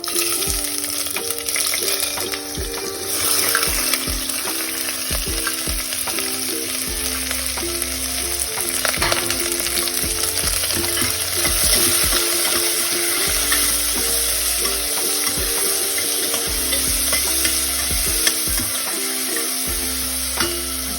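Steady loud sizzling of ginger, garlic and onion frying in a hot pan, with occasional scraping and stirring, continuous throughout and close by.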